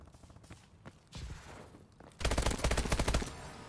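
Call of Duty Advanced Warfare gunfire: scattered shots early, then a sustained rapid automatic burst near the end, loud and close, with little talk.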